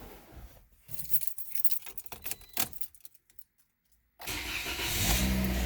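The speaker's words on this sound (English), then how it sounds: "turn the car on." Keys jangle and rattle near a car's ignition for several seconds, then after a brief hush the car engine starts and settles into a steady, close idle.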